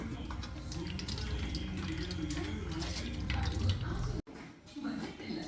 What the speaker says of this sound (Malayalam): നമുക്കൊരു സ്ട്രെയിനറിനകത്തോട് ഒഴിച്ച് നമുക്കിത് അരിച്ചെടുക്കാം.